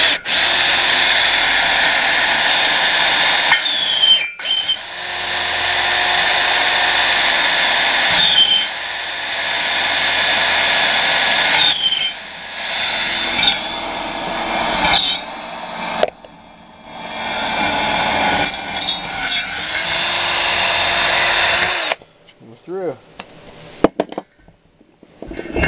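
A drill bores a series of Boyesen port holes into a Yamaha YT175/Blaster cylinder, a steady loud whirring grind running for over twenty seconds with brief pauses and restarts near the end.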